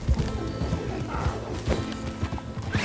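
A horse gallops in Red Dead Redemption 2, its hooves drumming in a quick steady clip-clop, loud and close, with game clatter and a snort or whinny mixed in.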